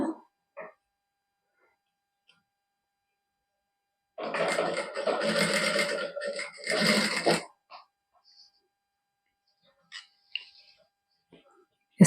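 Sewing machine stitching along the center crease of a neckline design at a tailoring boutique: one steady whirring run of about three seconds, close and fairly loud, with brief spoken words before and after.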